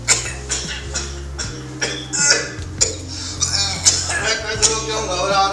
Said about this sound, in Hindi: अरे ये खांसी तो मेरी बैसाखी है।